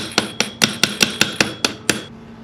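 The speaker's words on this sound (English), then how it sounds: "the next thing I'm going to do is to tap the gas block off with the brass hammer." A brass hammer taps the gas block off an AR15 barrel in nine sharp metallic strikes at a steady rhythm, each ringing briefly. The strikes are close and loud, with no talk.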